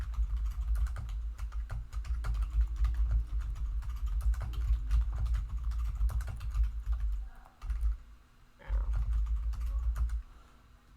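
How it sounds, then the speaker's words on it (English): Typing on a computer keyboard comes as quick, steady clicking and tapping through most of the stretch. A low hum sits beneath it, and there are two short pauses. "My lightning fast typing."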